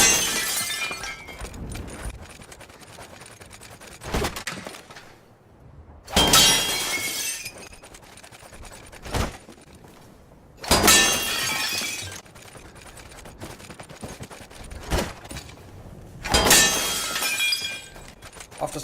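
Glass lanterns are smashed one after another in the video game Battlefield 1, with four loud, bright shattering crashes at roughly regular intervals, each trailing off into falling shards over low in-game ambience.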